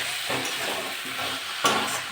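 Soybean chunks, potatoes and pointed gourd sizzle in spiced oil while being stir-fried, a steady frying hiss broken by several scraping stirs of the spatula, close and fairly loud, with no voices.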